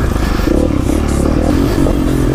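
A 2016 Kawasaki KX450F 450cc four-stroke motocross bike running on a track, a loud, steady engine drone with clattering mechanical noise, close up and unbroken throughout.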